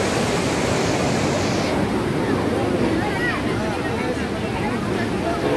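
The Parvati River rushes steadily at close range at Manikaran Sahib, Kullu, Himachal Pradesh, a broad, even roar with a voice faintly present beneath it.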